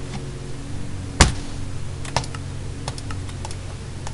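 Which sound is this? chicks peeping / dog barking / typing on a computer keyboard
typing on a computer keyboard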